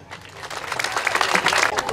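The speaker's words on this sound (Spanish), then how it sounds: "Para ello pido un fuerte aplauso." An audience at a Christmas celebration of Otomí indigenous groups bursts into applause, dense clapping building and holding steady, with voices mixed in.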